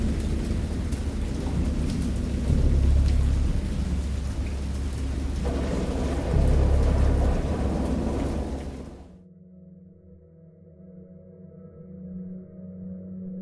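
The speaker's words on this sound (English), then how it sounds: "I heard pearls of thunder and other tones which nature utters only in her wildest moods" Heavy rain pours down with deep rolling thunder rumbling through it, then the downpour cuts off abruptly, leaving a quiet low hum.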